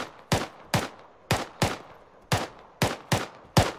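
Shotgun blasts in a first-person shooter game, nine loud, punchy shots in an irregular rhythm with short pauses between them, close and clear over a quiet background.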